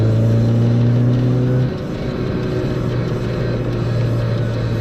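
A daily-driver car cruising on a road with a steady, loud engine drone and low humming tones that drop in pitch partway through as the engine note changes, then hold steady, close and without talk.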